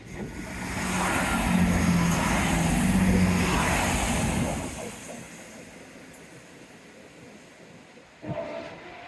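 A train rumbles past nearby, loud broadband roar building and then fading away over several seconds, leaving quieter background noise and a brief clatter.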